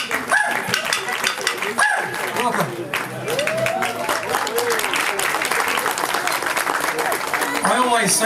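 Audience applause at a First Nations cultural performance, a broad wash of clapping that swells and continues steadily, with voices and a dog's barks mixed in near the start.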